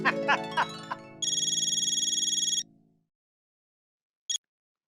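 A telephone ringtone in a Taarak Mehta Ka Ooltah Chashmah comedy scene rings as a loud, steady electronic trill for over a second, following a few short speech sounds and then cutting off into near silence.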